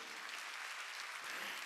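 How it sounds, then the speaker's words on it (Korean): A church congregation claps steadily, a faint, even wash of applause from a crowd with no clear pauses. "박수 치세요."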